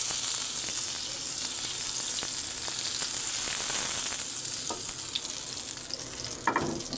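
Butter sizzling steadily in a home kitchen pan for beef steak, a continuous bright crackle with a few scrapes and clicks, heard close with no talk.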